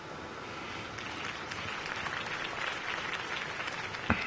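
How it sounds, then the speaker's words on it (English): Steady crowd applause rises after Harvey Dent's campaign speech in the Telltale Batman video game, a dense wash of many hands clapping throughout with one sharper clap near the end and no talking. "could have heard that applause"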